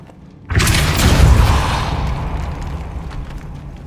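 A spell blast in the Hogwarts Legacy video game: a sudden heavy boom that swells into a long rumbling roar, then slowly fades under a steady background wash.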